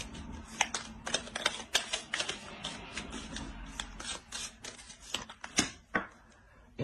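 Tarot cards being shuffled by hand: soft, irregular riffling and rubbing bursts with sharp flicks, quiet and close, continuing in uneven clusters for several seconds with no talk over them.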